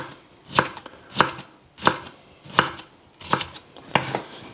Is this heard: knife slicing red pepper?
yes